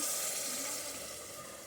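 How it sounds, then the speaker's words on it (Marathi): Hot water poured into a pan of village-style chicken curry with black masala paste, setting off a loud, steady close-up sizzle and hiss that fades slightly as it settles. "आता आपण हे गरम पाणी ह्याच्यामध्ये टाकून घेऊ"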